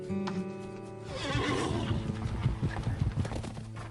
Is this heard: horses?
yes